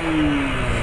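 A motorcycle engine revs close by, a short, steady mid-pitched whine with a slight falling tone; the bike has 34,000 km on it and a somewhat worn clutch.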